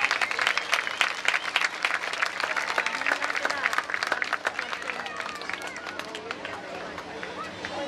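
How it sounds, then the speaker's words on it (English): Big round of applause from the crowd at a homecoming pageant for the contestants, dense and loud clapping with cheering and chatter, gradually thinning out toward the end as a voice begins to speak. "Let's have one more big round of applause for all of these amazingly talented contestants this evening"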